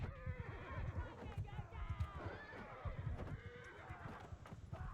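A horse in the Mount & Blade II: Bannerlord video game whinnies over steady, continuous hoofbeats from a desert battle, with someone talking over the top.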